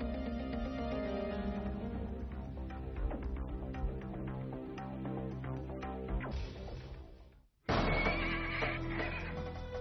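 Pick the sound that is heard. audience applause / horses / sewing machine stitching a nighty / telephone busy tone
horses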